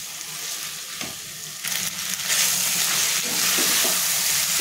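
Pasta stirred with tomato ketchup, pasta masala and turmeric in a hot pan, a steady close sizzle with scraping spoon strokes that grow louder and busier partway through.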